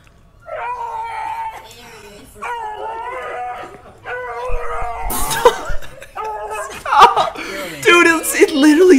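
A puppy's high-pitched whimpers and yips come in short bursts while people laugh and chatter close by, growing louder toward the end.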